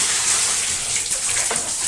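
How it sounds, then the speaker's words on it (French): Hot water gushes steadily from shower pipes, a dense, even hiss of running water close by with no voices. "L'eau chaude coule là, donc on va voir si elle est chaude ou pas."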